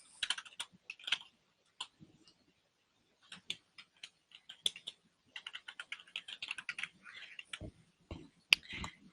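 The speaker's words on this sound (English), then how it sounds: "we're going to type in what if assumptions" Close clatter of keys being typed on a computer keyboard into a spreadsheet cell, quick bursts of clicks separated by pauses, ending with a few heavier keystrokes.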